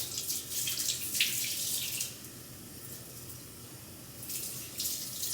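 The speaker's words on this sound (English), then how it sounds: "So we're gonna wash these off." Tap water running into a sink as freshly dug onions are washed of dirt, a steady moderate splashing flow with faint irregular spatters, heard alone.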